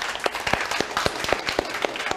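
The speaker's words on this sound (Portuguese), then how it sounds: "Uma salva de palmas para eles." Applause for a students' dance performance, a few people clapping in a brisk, fairly regular rhythm of sharp individual claps, close and moderately loud.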